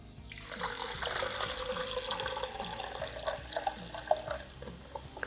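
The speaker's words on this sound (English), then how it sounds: "when we pour it into our Summit cup" Beer from a draft tap is poured into a Sum-It-Cup, a steady liquid gurgle and splash that runs for several seconds with small bright clinks, close up and free of talk.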